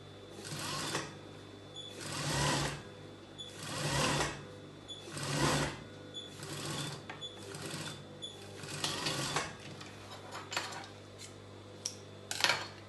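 A sewing machine stitches a circle skater dress in repeated bursts of rapid mechanical whirring, each lasting about a second with short pauses, close and clear, with light handling of fabric between runs.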